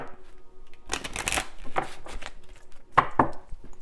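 Oracle cards are shuffled by hand in a few quick riffling bursts, crisp and close, with brief pauses and soft taps between them.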